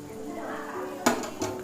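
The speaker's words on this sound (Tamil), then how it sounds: "ஸோ இந்த மாதிரி டைமில் வந்து அரிசியை நம்ம உள்ளே ஆட் பண்ணிடலாம்." Rice is tipped into a pot of boiling water for prawn biryani. A quiet simmering bed is broken by two sharp metallic clinks of the pot and utensil, one close after the other.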